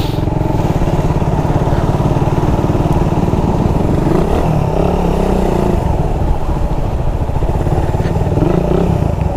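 A motorcycle engine runs loud and close, a rough, continuous throbbing idle with rapid regular pulses and mechanical clatter, holding steady with no voices.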